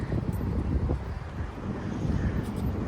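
Outdoor wind buffets the microphone in a continuous low, rumbling roar that stays fairly loud for the whole stretch.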